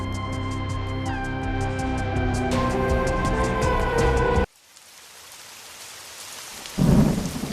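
A sustained musical drone gives way abruptly to heavy night rain hissing steadily, then a loud thunderclap rumbles near the end.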